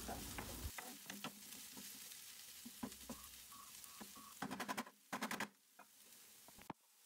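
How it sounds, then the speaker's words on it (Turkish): Onions sauté in olive oil in a pan, a quiet, uneven sizzle broken by scraping stirs and bursts of utensil clatter toward the end, without talk. "soğanların kokusu çıkana kadar kavurmaya devam edelim"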